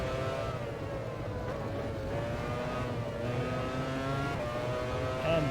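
Formula 1 race cars in the 1996 video game Formula 1 Challenge at the Spanish round, with a continuous high engine whine and layered revving tones from several cars, steady and loud throughout.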